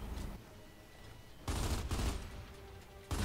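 Heavy bursts of gunfire from the video game Gears of War 2 roar over a steady battle din. A sustained volley swells midway, and another burst starts right at the end.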